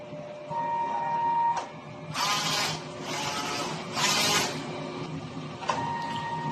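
A DTF printer running a nozzle test: a whirring carriage tone, then three bursts of hissing, sweeping print-head passes, ending with clicks as the mechanism settles.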